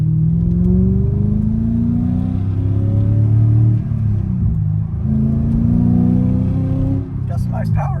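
A modified 2010 Chevrolet Corvette Grand Sport in blue revs repeatedly, its loud engine note climbing and falling in several sweeps up close, with voices faintly underneath.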